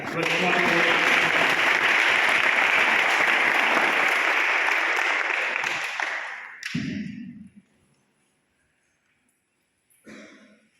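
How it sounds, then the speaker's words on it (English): A congregation claps to welcome a preacher, a loud, sustained wash of applause that tapers off, followed by a cough and a brief voice at the end. "let us give a big clap"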